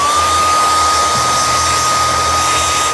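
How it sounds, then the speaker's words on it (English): A hair dryer blows continuously at close range to dry contact cement during leather sheath making, a loud, steady whirring rush with a faint high whine. "you can just use a hairdryer and cut minutes off of the wait time."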